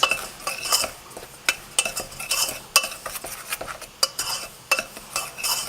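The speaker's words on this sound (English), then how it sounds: "Now mix all these ingredients." Flour, baking powder, baking soda and salt are mixed in a bowl with a spoon or whisk, making quick scraping strokes and sharp clinks against the side. The rhythm is irregular and close, with no talking.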